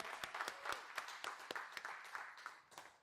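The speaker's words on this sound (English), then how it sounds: "So I want to clap for that, because that was amazing" At a public-speaking gathering, an audience gives faint, scattered applause for people who spoke for the first time, with a handful of distinct claps standing out from a soft patter.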